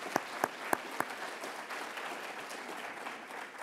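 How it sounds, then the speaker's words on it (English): Audience applause closing out an event's final remarks, opening with a few sharp, loud claps that spread into a steady, moderately distant wash of clapping from a crowd that carries through to the end. "So a round of applause for the supporters that allowed us to get together."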